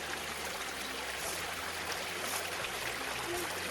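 A small hiking-trail stream trickling over a series of little waterfalls in a nature preserve, a steady, even rush of water close by with no voices.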